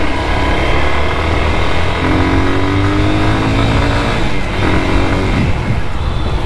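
A modified motorcycle accelerates hard, its engine note climbing through the revs with a brief pause between pulls, loud and close, with no talking.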